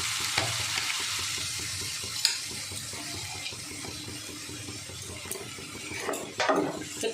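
Chopped tomato and spices fry in a pan for palak paneer, a steady close sizzle with scraping strokes of a spoon stirring through the mix, and no talking.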